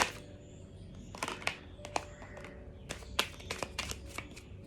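Tarot cards shuffled in the hands: a run of crisp riffling bursts and soft taps, close and moderately quiet, with a faint steady hum underneath and no talking.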